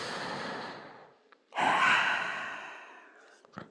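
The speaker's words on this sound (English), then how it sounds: "One more deep breath in child's pose." During a yoga session in child's pose, a slow audible exhale is followed by a deep breath drawn in that fades gradually, close to the microphone with no talking.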